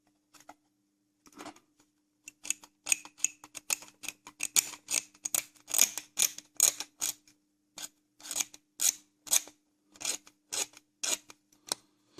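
Small scissors or cutter snipping plastic flash from a Fujimi 1/24 McLaren F1 GTR Long Tail kit part, a long run of sharp, close clicks in quick irregular succession.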